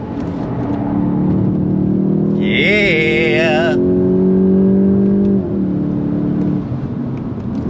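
A 2025 VW GTI Mk8.5 hatchback engine pulls hard under full throttle on a track, a loud steady drone rising in pitch for several seconds before easing off, with a brief spoken word over it.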